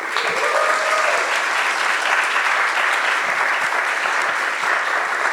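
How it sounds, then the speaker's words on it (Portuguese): An audience at a literary presentation bursts into loud, close, dense applause that holds steady and unbroken for over five seconds, with a brief voice near the start. "Palmas para o Rica."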